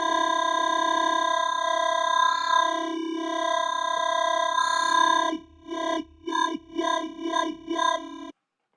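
A synth oscillator voices a formant-processed scrapyard sample through a Daft filter, giving a buzzy, vowel-like tone that holds for about five seconds, then breaks into rhythmic pulsing, wobbling chops before cutting off abruptly.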